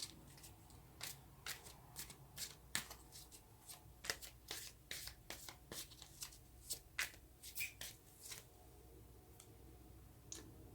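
Tarot cards are shuffled by hand in a quiet room, with a quick irregular series of crisp riffles and slaps, close and fairly soft.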